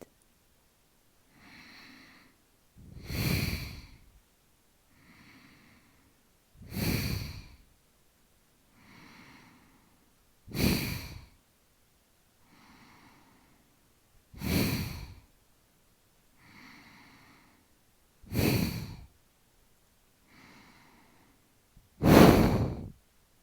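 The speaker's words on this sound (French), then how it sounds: "Même respiration que précédemment, un peu plus profonde, un peu plus rapide." Deep, fairly quick breaths during a beginner yoga exercise for digestion, seven strong exhalations repeating every few seconds with softer inhalations between, close and steady, with no talking.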